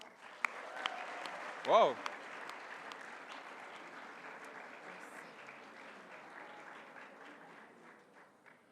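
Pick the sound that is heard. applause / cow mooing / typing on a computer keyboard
applause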